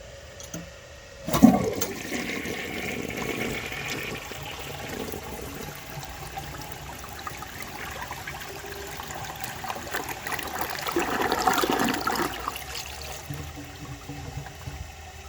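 Toilet flushing during a performance test on a 1960 Rheem-Richmond Claymore toilet with a clear trapway and no mineral buildup; a sharp onset gives way to a long rushing, swirling water sound, then a refill surge.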